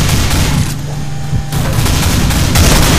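Gunfire in the multiplayer shooter Nuclear Dawn, a loud, dense barrage of shots and booms packed together over a few seconds, with no talking.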